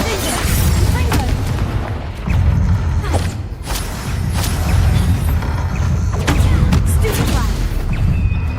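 Confringo spell explosions in the video game Hogwarts Legacy go off as heavy booming blasts and thuds, repeating irregularly through chaotic combat noise, with a voice speaking amid the fighting.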